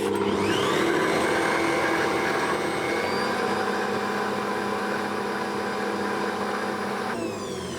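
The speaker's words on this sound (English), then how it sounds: "I'm going to simply whisk them to start with until I have fairly soft peaks." An electric mixer whisks egg whites toward soft peaks, its steady high whine and motor hum running continuously and close, with no voices.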